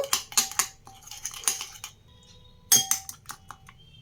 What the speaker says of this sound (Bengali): এক চায়ের চামচ ময়দা ভালোভাবে মিশিয়ে নেব